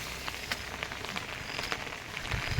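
Steady rainfall patters close by on a university campus, with scattered sharper drops hitting a surface over a continuous hiss.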